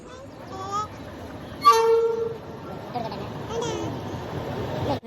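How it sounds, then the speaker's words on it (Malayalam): A passenger train arriving at Tanur railway station sounds a short, loud horn blast over a low rumble of rolling wheels, with people talking nearby. "ട്രെയിൻ വന്നു, ഞങ്ങൾ കയറി"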